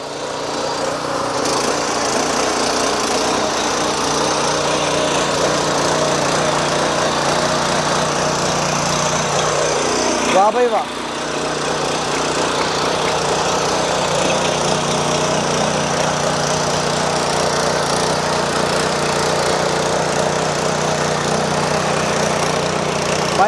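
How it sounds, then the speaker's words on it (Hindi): A farm tiller's turbo engine, just kick-started, runs with a steady, close, droning putter throughout, dipping briefly midway, while a voice briefly exclaims over it. "इसमें टर्बो का इंजन दिया गया है और ये पहली ही किक में स्टार्ट हो जाएगा जी"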